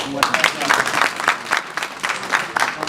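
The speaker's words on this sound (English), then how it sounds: "Let's applaud them, please." Audience applause at a Guinean community associations gathering in the UK, a steady patter of claps with uneven bursts lasting throughout, a voice faintly heard underneath.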